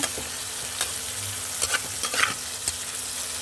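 Onions frying in a pan give off a steady close sizzle, with a few light stirring scrapes and taps on top and no one speaking.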